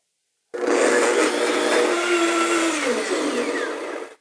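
A Blendtec blender roars through a cycle, starting abruptly, holding a loud, steady whirring drone with a slight pitch drop midway, then cutting off sharply.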